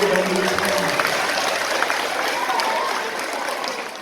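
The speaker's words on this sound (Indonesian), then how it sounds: "Kasih tepuk tangan dulu ibu." Women in the audience at an Isra' Mi'raj religious lecture in a village hall clap together, a dense, continuous patter of many hands at moderate volume, tapering slightly near the end, with some murmuring underneath.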